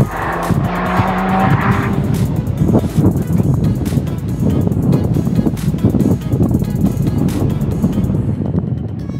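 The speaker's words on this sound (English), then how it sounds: "first time the Jag's been on the track, and my first time in a manual on a track" A Jaguar with a manual gearbox is driven hard around the Blyton Park race track, engine revving loudly and continuously, with brief tire squeal early on.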